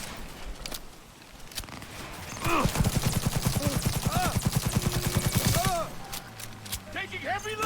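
Rapid turret fire in Cyberpunk, a long burst of evenly spaced shots over about three seconds, with scattered single shots and other combat noises before and after.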